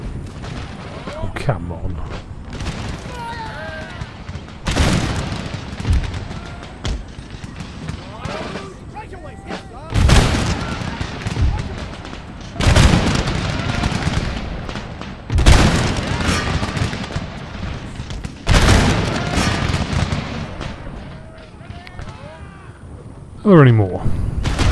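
Musket regiments in Empire: Total War fire repeated volleys, loud booming bursts every few seconds with crackling gunfire between, while someone talks over the battle.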